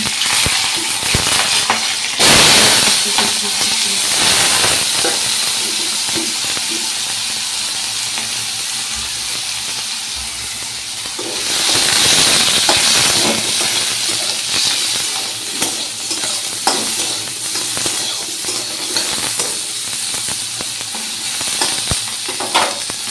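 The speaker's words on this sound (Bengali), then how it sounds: "পনির ভেজে তুলে রেখেছি এবার পাঁচ ফোড়ন দিলাম তারপর কাঁচা লঙ্কা" Panch phoron spices and green chili sizzle loudly in hot oil, a dense continuous crackling hiss with popping bursts that swells and eases over time, with no voices.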